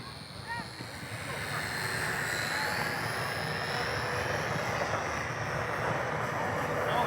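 Eachine Mini Cessna micro RC plane flying into wind, its small electric motor giving a steady buzzing whine with broadband wind noise throughout, fairly constant and near.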